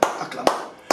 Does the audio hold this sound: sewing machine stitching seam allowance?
no